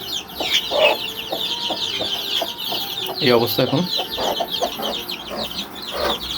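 Young chickens in a farm aviary cluck repeatedly at close range, with scattered bird calls and a brief louder burst of fowl squawking midway, while a person speaks briefly over them.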